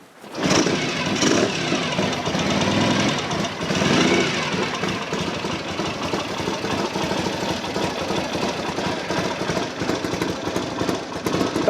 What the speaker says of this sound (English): That has a lovely exhaust note.